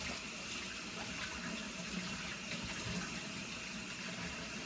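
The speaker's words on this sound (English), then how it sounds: "Let me wash my hands real quick." Hands rinsed under a running tap, a steady, dense rush of water close by with no voices, continuous and even throughout.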